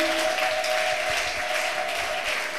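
A church congregation applauds loudly and continuously, dense clapping from many hands filling the room with a steady wash of sound, a faint sustained tone beneath.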